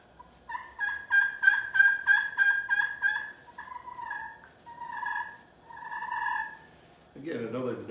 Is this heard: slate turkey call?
yes